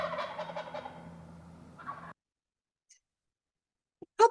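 Turkeys gobble in a loud, rattling burst that runs for about two seconds, followed by near silence broken by a couple of short, sharp calls at the end.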